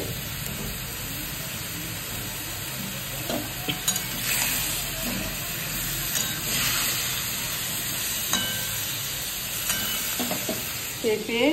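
Papaya, carrots, capsicum, beans, whole onion and green chillies go into a frying chicken stew pot, giving a steady loud sizzle and hiss with intermittent stirring scrapes and clinks of a utensil on the pot.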